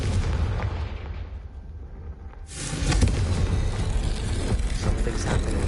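In a Harry Potter video game, a Confringo spell explodes with a sudden loud blast that follows a quieter lull, then gives way to a sustained rumbling roar.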